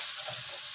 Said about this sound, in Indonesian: Ini kentang udah saya kukus, terus aku saya goreng. Udah mau matang nih kentangnya.